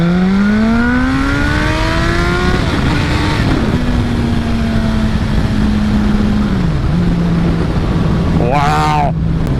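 A Suzuki GSX-R1000 K7 sport motorcycle accelerating hard, engine pitch climbing through quick gear changes with a loud, steady roar and strong wind noise throughout, then a brief sharp rev near the end.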